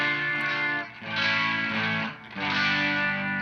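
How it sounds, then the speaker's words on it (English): Electric guitar chords through a Tone Bender fuzz pedal ring out loud and gritty, two sustained strums with a brief dip between them. "You can already hear a little bit of that distortion when I turn it on."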